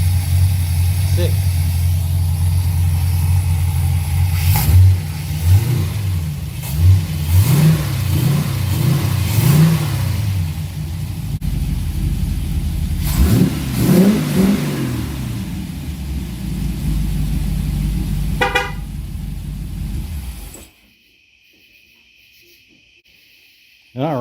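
An LS V8 fitted in a Porsche 944 runs on a freshly installed carburetor, idling roughly and blipping through several loud revs up close, with voices talking over the engine before it cuts off near the end.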